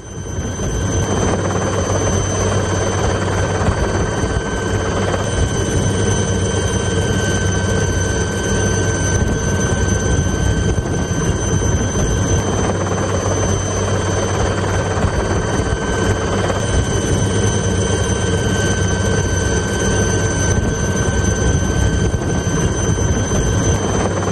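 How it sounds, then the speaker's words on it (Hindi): An army helicopter flies during a flood rescue in Punjab, its loud, steady rotor and engine roar filling the whole stretch without a break. "पंजाब में लोग फंस गए, आर्मी का हेलीकॉप्टर पहुंच गया"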